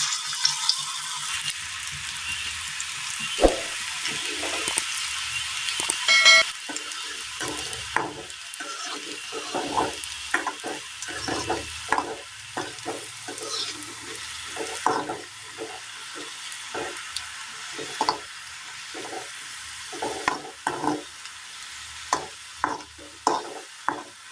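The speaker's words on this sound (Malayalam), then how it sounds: "ഒരു ചീനച്ചട്ടിയിൽ നമ്മൾ എണ്ണ ഒഴിച്ചു കൊടുത്ത് നന്നായി ഒന്ന് ചൂടായി വന്നിട്ടുണ്ട്. ഇത് ഓരോന്നുമായിട്ട് ഇങ്ങനെ ഇട്ട് കൊടുക്കാം." Dough balls dropped one by one into hot oil in a Kerala cheenachatti pan, deep-frying for a snack; a steady bubbling sizzle runs throughout, punctuated by repeated clinks and scrapes of stirring.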